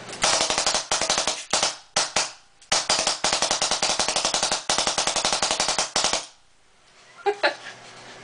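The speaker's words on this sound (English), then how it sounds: "this gun can shoot as fast, if not faster, than most modern tournament guns" A custom RT AutoMag paintball marker fires in rapid bursts of sharp pops, several strings of fast shots separated by short pauses, loud and close, with a few scattered clatters at the end.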